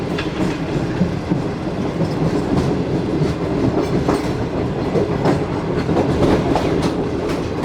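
The Shalimar Express passenger train approaches Landi Junction railway station, heard from inside a parlour car. A steady, loud rumble of rolling wheels carries a continuous clickety-clack of rail joints with no talk.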